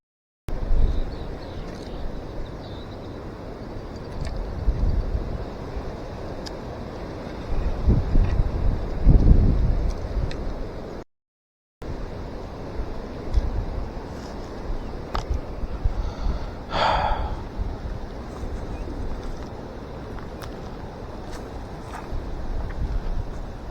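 Steady wind buffets a microphone outdoors while fishing from a boat, a continuous low rumble with gusts swelling and fading throughout, broken by a brief dropout midway and a short high flutter later.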